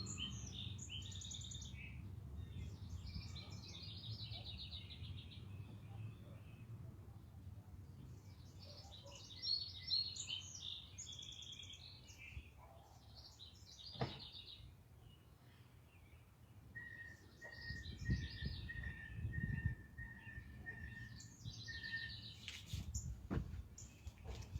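Wild birds sing and chirp outdoors, bursts of twittering calls coming and going over a steady low rumble, with one sustained high whistled note in the later part; moderately distant and fairly faint.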